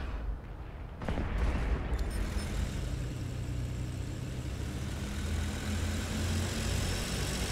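Ju 87 B-2 Stuka dive bomber in flight in War Thunder, its engine a steady, dense roar that swells in after a sharp burst of gunfire and holds loud and close to the end.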